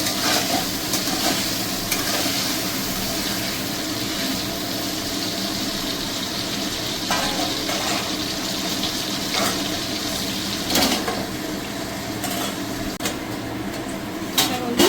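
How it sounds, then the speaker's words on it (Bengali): Eggplant frying in oil with a little turmeric in a pan, a dense continuous sizzle with occasional stirring clicks, close and steady throughout, with no talk. "এবার একটু হালকা আমি বেগুনটাকে ভেজে নেব"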